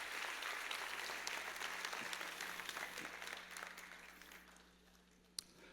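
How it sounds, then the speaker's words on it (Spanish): A church congregation applauds, dense clapping fading gradually toward the end with a low steady hum underneath and a single sharp knock near the finish. "Dale un aplauso bien fuerte al Rey"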